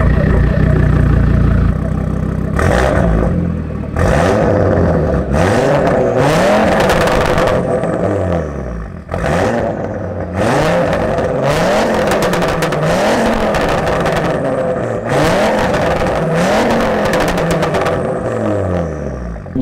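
An Audi RS3 with a valved SwitchPath muffler exhaust revs repeatedly, sharp rising and falling blips over a rumbling idle, loud and close with a deep burbling tone between pulls.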